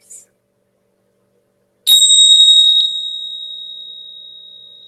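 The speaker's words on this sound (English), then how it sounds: "Now in a moment I'm going to ring the bell" A meditation bell is struck once at the close of a guided mindfulness meditation, giving a bright, clear ring that hangs and slowly fades in an otherwise silent room.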